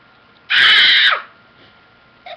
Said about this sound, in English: I'm just gonna scream.